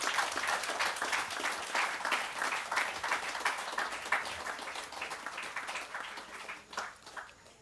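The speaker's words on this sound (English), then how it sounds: "Let's give them a round of applause for that." A crowd applauding at moderate distance at a lighting installation ceremony at a recreation ground in Talparo, steady overlapping claps that hold for several seconds before thinning slightly toward the end.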